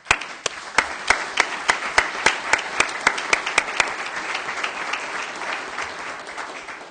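Council meeting attendees applaud, starting with a run of distinct, evenly spaced loud claps that blend into broader, softer group clapping.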